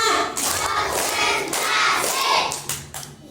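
An audience at an Isra Mi'raj commemoration claps together on cue, landing a few sharp, close group claps in a short sequence amid background murmur.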